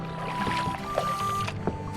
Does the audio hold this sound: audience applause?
no